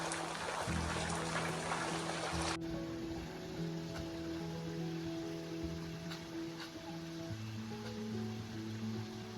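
Steady rain patters softly in the background while low engine-like hums drone and shift underneath.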